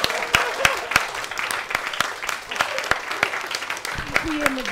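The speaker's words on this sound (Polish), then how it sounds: "dajcie im wielkie brawa" An audience at an improv stand-up comedy show claps in a burst of applause while a host keeps speaking over it.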